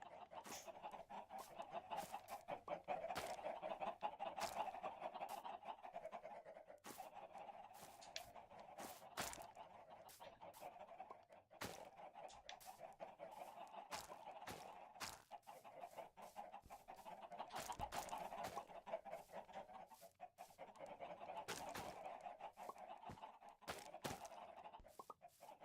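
Chickens cluck softly in the blocky sandbox game Minecraft, with repeated short clucks and sharp clicking taps in an irregular rhythm, faint and steady throughout.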